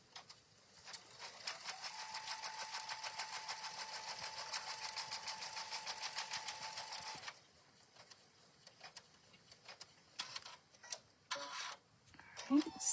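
An embroidery machine stitches out appliqué pieces for a mug rug, a steady rapid mechanical whirring and ticking that runs for about seven seconds, then stops, leaving scattered clicks and handling sounds.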